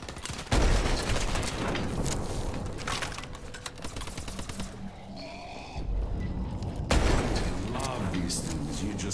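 Automatic turrets in the zombie shooter AW Zombies fire rapid clattering bursts, loud and close, broken by short pauses and mixed with other game noise.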